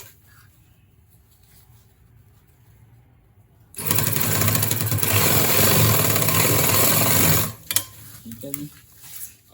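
A sewing machine runs in one loud, steady burst for about four seconds while stitching a zip onto a pair of trousers. Quiet room noise comes before it and brief handling clatter after.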